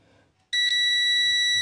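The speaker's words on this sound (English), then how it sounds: "you can hear the buzzer sound is pretty much good, and you can hear it's quite audible" Continuity-test buzzer of a Sigma 33A TRMS multimeter, one loud, steady high-pitched electronic tone that sounds abruptly after a short quiet moment and holds unbroken.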